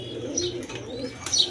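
A pigeon offered for sale coos softly in a low, throaty murmur, with a faint higher chirp near the end, close by and without talk.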